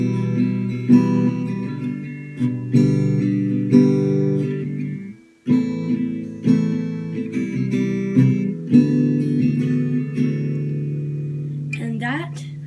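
Guitar playing the main part of a song in a tutorial, clear strummed chords in a repeating rhythm with one brief pause midway.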